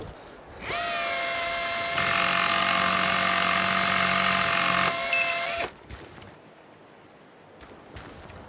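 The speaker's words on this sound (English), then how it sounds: "Preston, get out and see if you can find a power tool to fix this chopper." A power tool whines steadily to fix a helicopter in the Battlefield Bad Company video game, a loud, sustained mechanical drone with tonal harmonics that steps up partway, then cuts off, leaving quieter ambience.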